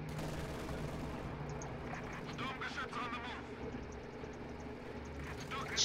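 Machine gun fire in a multiplayer video game sounds as rapid, fairly faint distant bursts beneath a person talking over the match.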